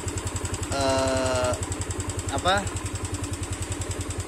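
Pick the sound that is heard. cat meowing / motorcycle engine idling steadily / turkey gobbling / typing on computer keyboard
motorcycle engine idling steadily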